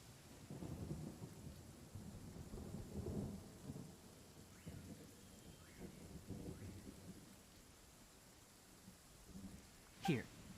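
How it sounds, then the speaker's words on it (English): Steady rain pours in the Genshin Impact video game with low rumbling thunder rolling through, building and easing in waves, and a sharp crack of thunder striking close near the end. "That grandpa like just soaking in the rain."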